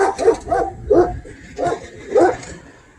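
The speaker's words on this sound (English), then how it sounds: "That dog wants to kill somebody." An aggressive dog barks close by in four loud, evenly spaced bursts, each a harsh, heavy bark.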